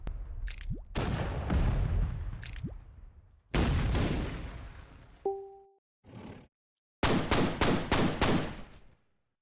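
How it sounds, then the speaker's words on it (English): Oddball weapon fired in the artillery video game ShellShock Live: a string of loud, punchy shot and impact bursts with whooshing tails, broken by short gaps and a brief tonal blip, ending in a dense burst of crackling hits. "he shoots it with the weapon we get the most, oddball"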